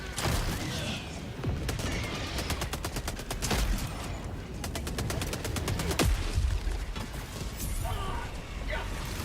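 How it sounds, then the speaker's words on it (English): Rapid bursts of gunfire and explosions from a cluster launcher in the shooter Helldivers 2, a dense crackling fusillade with repeated sharp blasts and mechanical clatter throughout. "This is the actual cluster launcher."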